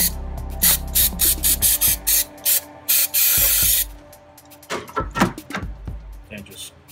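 Short hissing bursts from an aerosol can of throttle body cleaner sprayed on a Chevrolet Tahoe throttle body, several quick sprays then one longer blast, followed by scrubbing noises and a voice speaking.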